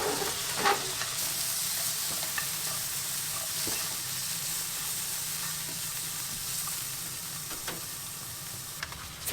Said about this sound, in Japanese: 酒大さじ1を加えて汁気を飛ばしながらさらに炒めていきます